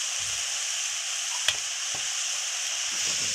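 Spring onion leaves sizzle and fry in a pan, a steady close hiss running throughout with a couple of sharp clicks and light stirring scrapes.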